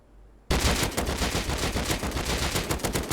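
Rapid automatic gunfire in the survival video game Rust bursts in after a short quiet lead-in, a continuous loud stream of shots with a tight, even rhythm.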